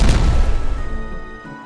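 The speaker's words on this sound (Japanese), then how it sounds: "コアが爆発するぞー。" A pulsing core blows up in the city-building game Timberborn: one heavy, close boom that rolls away and fades over about a second and a half.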